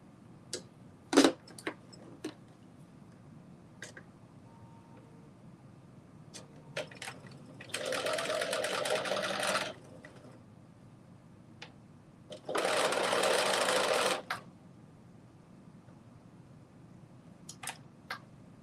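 A sewing machine stitches straight across the top of a pleated garment in two distinct bursts of rapid, buzzing mechanical whirring, separated by quiet gaps with small clicks and handling taps.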